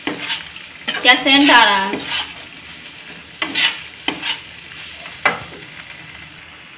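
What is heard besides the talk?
stirring and roasting tomato pasta in a kadhai on high flame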